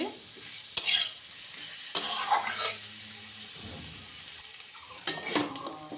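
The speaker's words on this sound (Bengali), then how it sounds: "আলুর সঙ্গে পোস্তটা কষিয়ে নিই" Potatoes and poppy seeds fry in a pan as a spoon scrapes and stirs them in short bursts, with a low background sizzle running between the clattering strokes.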